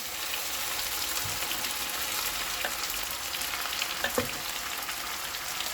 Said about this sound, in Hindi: अब इसमें हम डाल देंगे 4 चॉप्ड अनियन,